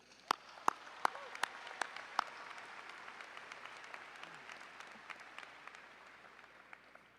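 A high school graduation audience applauds a graduating student: a few sharp, separate claps come first, then a soft, sustained wash of crowd clapping heard from a distance that slowly tapers off.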